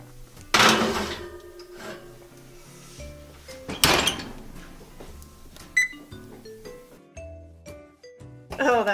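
An oven door swings open and shuts as a banana bread goes in to bake. Two loud clattering bangs sit among smaller knocks and rattles, with a voice talking in between.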